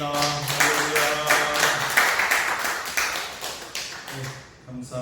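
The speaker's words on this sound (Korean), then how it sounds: "감사와 영광의 박수하겠습니다." A church congregation claps together after a Korean worship prayer, a steady burst of many hands rising and thinning over a few seconds, with musical tones and voices mixed underneath.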